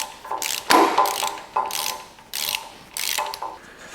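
A torque wrench ratchets in several short bursts of clicking while tightening bolts on a Nissan Patrol rear axle during a rebuild, close and clear with no talk.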